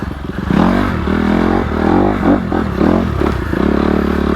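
A 2020 Honda CRF250RX dirt bike pulls away in first gear without the clutch, its engine loud and close with a low chugging thump that swells and dips as the revs rise and fall, heard alone.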